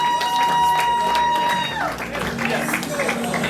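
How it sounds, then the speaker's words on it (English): Audience applause at a World Optometry Week dinner, rising partway through over a backdrop of voices and tonal sound, then carrying on as a steady, moderately close patter of clapping. "let's clap"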